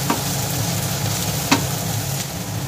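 Chopped onion, garlic and ginger frying in a pan for a Surmai fish curry, a steady soft sizzle with a couple of brief scraping stirs, close and without talk.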